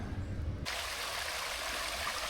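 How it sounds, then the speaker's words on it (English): A small man-made waterfall on a bushwalk near Florianópolis gives a steady splashing rush that starts abruptly after a lower, rumbling opening and then carries on evenly at moderate level, with no voices. "The waterfall itself is just a man-made little waterfall."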